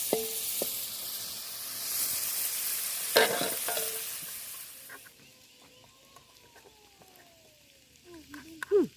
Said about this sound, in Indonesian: Goreng ikan teri.